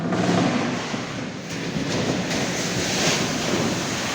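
Strong storm wind with heavy rain in Tiruppur, a dense continuous roar and hiss of wind-driven rain, loud and close throughout with no voices.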